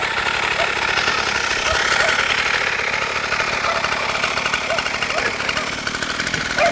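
Small engine of a mini motorcycle running and being revved, a loud rattling buzz that rises and falls close by, with voices talking over it.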